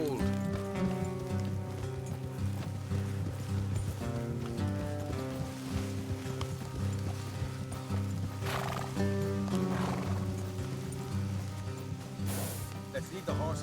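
Horses in the Red Dead Redemption 2 video game whinny and neigh with clip-clopping hooves, heard amid a steady bed of background music and game ambience, fairly loud throughout.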